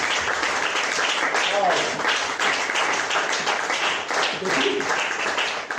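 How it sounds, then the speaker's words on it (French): Congregation at a French-language church service applauding and cheering together, a dense continuous wash of clapping with voices mixed in, steady and loud throughout. "Est-ce qu'on peut acclamer très pour le Seigneur?"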